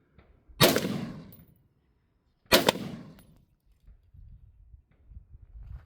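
Two loud, sharp gunshots fired at targets on a shooting range, about two seconds apart, each with a trailing echo, followed by faint low rumbling.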